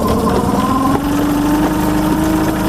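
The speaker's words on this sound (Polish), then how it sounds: "Tym guzikiem rozrusznika odpalamy, odpalamy silnik." Engine of a Sedna 30 Animusz boat running just after being fired with the starter button, a loud, steady mid-pitched mechanical hum with a slight vibration and no speech.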